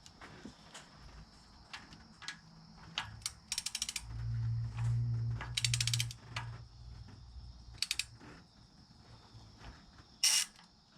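Ratchet clicks in short rapid bursts while a valve cover bolt is tightened on a 2004 Toyota Highlander, several separate runs of ratcheting close up over a low mechanical hum, with no talk.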